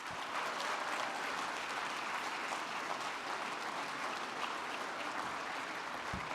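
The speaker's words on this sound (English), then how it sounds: "keep on applauding, because married folk in the room" A crowd at the 2017 Whitney M. Young, Jr. Gala applauds the longest-married couple in North Carolina, with thick, even clapping from many hands that sustains at a moderate, slightly distant level throughout.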